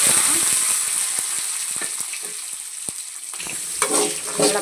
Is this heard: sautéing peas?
yes